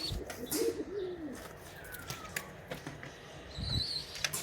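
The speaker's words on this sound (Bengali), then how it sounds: "এই যে আমাদের কবুতরগুলো" Pet pigeons coo in low, rolling calls close by, mixed with a few brief chirps and light creaks, with no talking.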